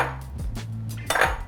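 An egg is tapped against a bowl's edge, giving a few sharp clinks and a brief crack, close and clear with no talking.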